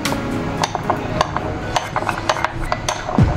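Custard powder being mixed into water makes a close run of quick scraping and clinking strokes in an uneven rhythm, with no speech.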